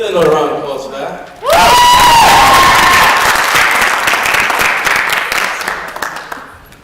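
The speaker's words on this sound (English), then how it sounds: "Get another round of applause for that." Loud audience applause erupts after a gospel dance performance, bursting in suddenly after a brief spoken line and sustaining dense clapping with a few cheers before slowly tapering.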